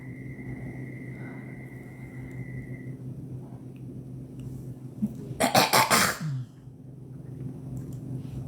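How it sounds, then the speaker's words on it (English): A short burst of harsh, rapid coughing, several hacks in quick succession, close by over a steady low hum, with no talking. "I'm like coughing up mucus"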